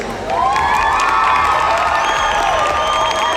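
Excited spectators cheering and shouting at a show jumping competition, a sustained loud roar of crowd voices with whistles and high children's shouts layered on top.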